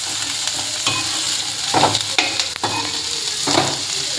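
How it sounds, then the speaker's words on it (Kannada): Carrots and beans sizzle steadily in a pan for veg fried rice, with several distinct scraping strokes of a spatula stirring them at close range. "ಕ್ಯಾರೆಟು ಮತ್ತು ಬೀನ್ಸು ಒಟ್ಟಿಗೆ ಹಾಕೋತಾ ಇದ್ದೀನಿ. ಇದೇನು ಒಂದೊಂದು 10 ಸೆಕೆಂಡ್ ಫ್ರೈ ಆದರೆ ಸಾಕು."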